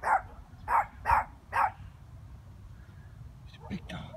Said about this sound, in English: Killer dog alert.